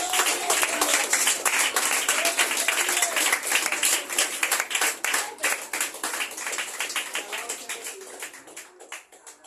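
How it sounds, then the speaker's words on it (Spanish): Dense applause and clapping from a church congregation honoring the Spirit of God, loud and steady for most of the clip before thinning out and fading near the end, with faint voices mixed in. "Un aplauso al Espíritu de Dios."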